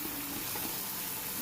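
Soaked, washed chana dal sizzles as it sautés in a pan, a steady close hiss of frying that runs unbroken for just over a second.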